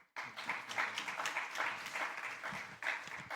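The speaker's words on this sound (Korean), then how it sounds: "박수로 환영하겠습니다." Congregation at a university chapel worship service applauding to welcome a pastor to the pulpit, a steady, moderately distant wash of many hands clapping with no talk over it.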